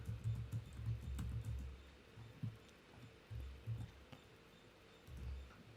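Keys tapped on a computer keyboard while entering simple Java loop code, a quiet run of soft clicks in short uneven bursts with brief pauses between them, close by and low in level.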